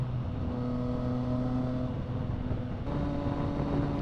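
A Yamaha MT09SP motorcycle engine runs with a steady, slightly raspy drone, less bassy than usual, holding an even pitch before a small shift partway through, loud and close with no talking.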